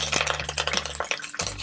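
Fennel seeds, fenugreek, cinnamon, cloves, bay leaves and curry leaves tempering in hot oil for a mutton kola urundai kulambu, crackling and sizzling in quick bursts alongside stirring clinks, close and fairly quiet.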